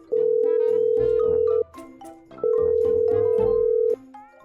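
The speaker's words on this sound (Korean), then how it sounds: "한번 전화해볼게" Telephone dial tone heard while a call is placed, two long steady beeps separated by a short gap, loud and close with faint background sounds between them.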